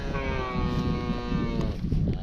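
A calf held in a cattle chute moos loudly once in a long, drawn-out call that wavers in pitch, with farm clatter and background noise beneath it.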